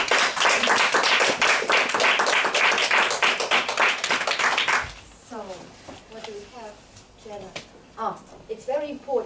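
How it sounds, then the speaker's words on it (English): Brief burst of clapping from online meeting participants at a Toastbusters speaking club session, loud for about five seconds, then cut off as a person starts talking. "Let's continue with applause for all the participants of this meeting."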